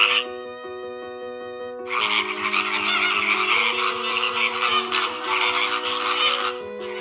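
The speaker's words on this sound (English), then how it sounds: "The flamingo." A flock of flamingos gives a dense, continuous honking chorus over steady sustained musical tones.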